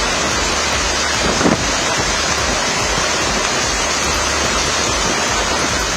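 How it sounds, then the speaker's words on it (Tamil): A rough, cyclone-driven sea churns at Pattinapakkam beach, a loud, unbroken roar of surf mixed with strong wind buffeting the microphone, with one brief heavier gust or crash early on. "புயலின் தாக்கத்தால் பட்டினப்பாக்கத்தில் கடலின் சீற்றம் அதிகமாக காணப்பட்டது."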